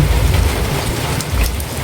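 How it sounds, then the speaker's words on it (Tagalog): Loud, continuous rain pours down close by, a thick roaring wash with a low rumble underneath. "Umuulan na naman tayo."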